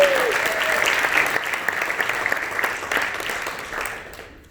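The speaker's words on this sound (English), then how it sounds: "How about a round of applause for Reno and all of our chickens?" Steady audience applause at a live Coach and Cowboy tour show, a full burst of clapping that holds evenly before cutting off abruptly at the end.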